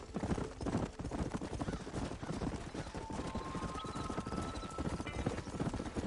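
Horse hooves gallop in a fast, steady clip-clop rhythm in the Red Dead Redemption video game, loud and close, running throughout with a brief whinny and faint wind.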